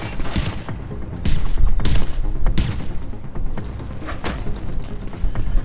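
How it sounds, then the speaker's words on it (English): Rapid bursts of video game gunfire from a Final-Tac build, loud and close, crackling in repeated volleys with short gaps between them, with no talking. "You're shooting at me."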